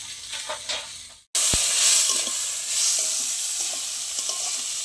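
Spiced rice with sour yogurt frying and stirred in a pan, a loud steady sizzle with a sharp hiss surging after a brief pause, plus occasional scraping of the spoon up close.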